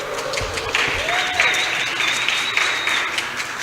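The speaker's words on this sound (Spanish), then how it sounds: "Denles un aplauso." An audience at a church music ministry week event applauds two music teachers, with steady, fairly close clapping throughout and a faint tonal sweep rising above it.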